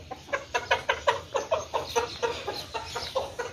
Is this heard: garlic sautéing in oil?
no